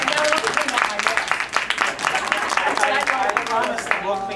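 An audience at a Festival of Trees designer workshop gives a round of applause, a dense burst of clapping from a small indoor crowd that runs for several seconds while a voice keeps talking over it.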